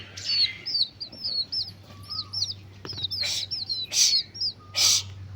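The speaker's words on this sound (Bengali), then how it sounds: "আর মুরগির বাচ্চাগুলো না অনেক উৎপাত উৎপাত করে" Chicken chicks cheep in quick, high repeated peeps, close and fairly loud, with a few sharper louder bursts near the end and no talking.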